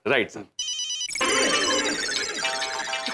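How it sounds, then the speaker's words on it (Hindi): A telephone rings loudly with a bright electronic ringtone that repeats steadily, following a brief burst of voice at the start. "कौन तुमको बार बार फोन कर रहा है?"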